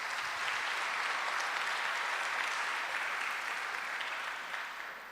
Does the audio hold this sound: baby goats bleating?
no